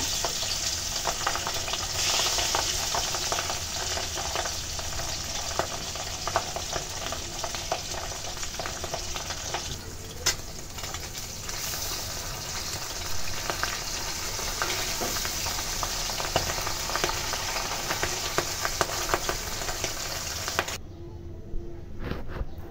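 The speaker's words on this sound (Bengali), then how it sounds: "সেটাকে এখন একটা ফ্রাই প্যানে তেল দিয়ে তার ভিতরে ভেজে নেব" Pabda fish, rubbed with salt and turmeric, frying in oil in a frying pan, giving a steady, loud, dense sizzle with occasional stirring scrapes that runs continuously before cutting off near the end.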